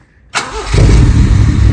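A lawnmower engine starts after a short silence, first a sharp crank and catch, then a loud, close, rough-running roar that settles into a steady idle.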